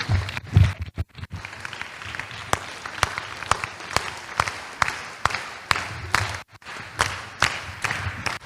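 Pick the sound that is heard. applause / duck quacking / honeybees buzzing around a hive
applause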